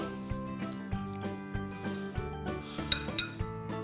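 Tomato with chopped rosemary, salt and pepper being mixed in a bowl for bruschetta, a run of close, regular utensil clinks and scrapes against the dish, fairly soft and with no talking.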